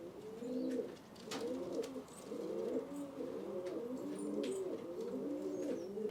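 Racing pigeons coo softly and repeatedly inside a loft in Palakkad, a steady run of rolling throaty calls at close range with faint background chirps and no speech.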